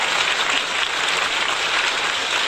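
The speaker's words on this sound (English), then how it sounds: "appreciate the claps" A workshop audience applauds at the close of a roughly two-hour session, a dense, steady patter of many hands clapping together, loud and continuous for the whole stretch with no voices over it.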